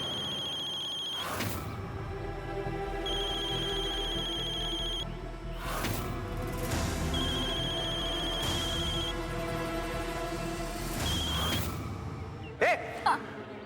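A telephone rings in repeated bursts of a bright electronic ringtone, each lasting a few seconds with short gaps, over a low indoor background, followed by a couple of brief clicks at the end.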